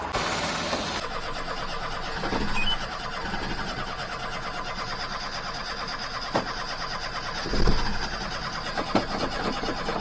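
A mini truck engine cranks and catches on a cold day, a continuous mechanical churn with a couple of louder surges, recorded close and fairly loud.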